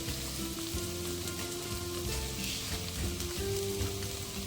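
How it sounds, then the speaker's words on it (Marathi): Garlic, coconut and coriander paste frying with carrots for schezwan rice gives a steady, dense sizzle that crackles continuously at close range, with no voices. "आणि हे चांगलं परतून घेणार आहोत"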